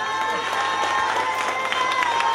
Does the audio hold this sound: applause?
yes